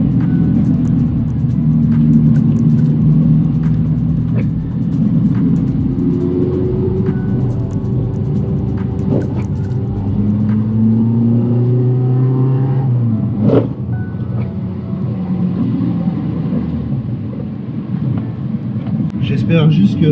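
Car engine pulling hard under acceleration while driving, harmonics climbing through repeated gear changes, loud and close with cabin rumble throughout, freshly serviced with a new air filter.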